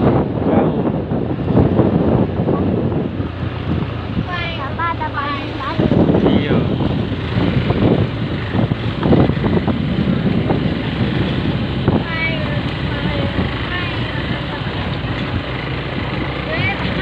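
Wind buffets the microphone in a rural village setting in Mamasa, a constant loud rumble and roar running through the whole stretch while people talk over it.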